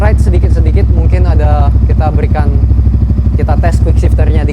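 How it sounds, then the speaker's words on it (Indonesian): A Yamaha R15M motorcycle with a Grace aftermarket exhaust runs close and loud, its rhythmic engine note steady while a rider speaks over it. "yang aku cari dari motor itu suaranya knalpot adem kayak gini"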